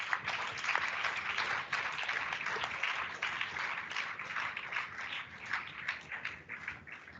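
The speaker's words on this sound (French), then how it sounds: "je crois que vous pouvez vous applaudir parce que c'est vraiment fantastique" Sustained audience applause fills a hall during a talk on political engagement and a local elected official's career, a dense, steady wash of many hands clapping at even loudness throughout, with no voices over it.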